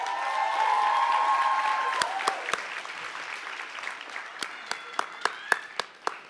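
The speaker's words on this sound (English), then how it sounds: "you got to keep the clap going until she reaches the podium" A graduation audience applauds a senior class speaker, first a dense wash of clapping that thins into a few separate, sharp claps in the last seconds, with no speech.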